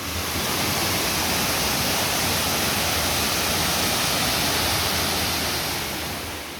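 Waterfall in the Watkins Glen gorge in New York State, a steady, loud, broadband rushing roar of falling water that stays constant and close throughout with no voices.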